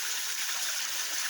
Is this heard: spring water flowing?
yes